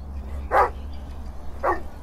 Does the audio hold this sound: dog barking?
yes